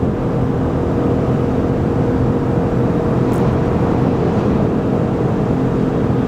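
A Ford F150 PowerBoost hybrid pickup tows a heavy load up a 6% grade at wide open throttle, giving a loud, steady engine and road drone heard from inside the cab, unbroken and without talk.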